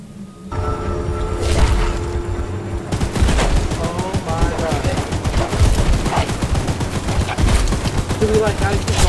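Rapid, sustained bursts of gunfire from a mounted gun in the game Choo Choo Charles, loud and continuous after a brief lead-in, with heavy booming impacts throughout.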